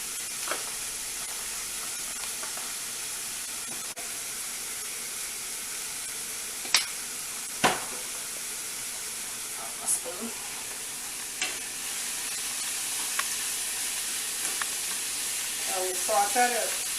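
Vegetables for veggie enchiladas, seasoned with Mexican oregano, are warmed lightly in a pan, giving a soft continuous sizzle and hiss with occasional clinks and stirring scrapes, plus faint talk late in the clip.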